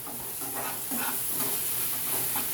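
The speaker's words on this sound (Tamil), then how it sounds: "கடாயில் கொஞ்சம் எண்ணெய் விட்டு ஒரே ரவுண்டு தக்காளி, ரவுண்டு வெங்காயம், கருவேப்பிலை, இஞ்சி பூண்டு பேஸ்ட்டு போட்டு இப்போ வதக்குறாங்க" Tomato, onion, curry leaves and ginger-garlic paste sautéing in oil in a kadai for a paneer gravy: a steady soft sizzle and hiss with faint stirring scrapes throughout, low in level and without voices.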